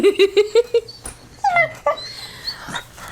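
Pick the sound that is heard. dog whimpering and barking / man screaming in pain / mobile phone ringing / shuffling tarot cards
dog whimpering and barking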